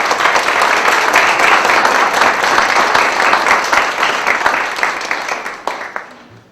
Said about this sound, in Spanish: el doctor Víctor Manuel Garay Garzón, para quien le pido un fuerte aplauso.